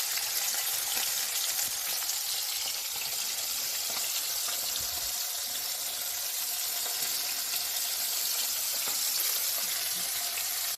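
Food frying crisp in a hot pan during home lunch cooking, with a steady, dense sizzle and crackle that carries on close and even throughout.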